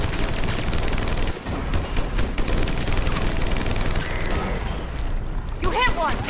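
Sustained automatic gunfire in a Mass Effect battle, rapid bursts layered over one another with heavy booms, while combat voices and effects cut in near the end.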